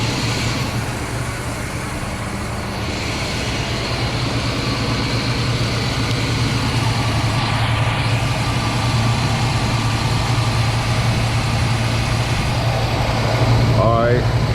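A 1975 Pontiac LeMans engine idles steadily nearby, a constant low rumble that holds through the whole stretch while a person talks over it.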